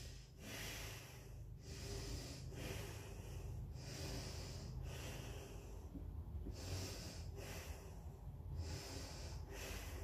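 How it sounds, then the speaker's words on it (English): Deep, audible breaths during a yogalates pose with the chin tucked toward the chest, close to the mic, with about seven slow, even inhale-exhale cycles and no talking. "Breathing up properly and deeply."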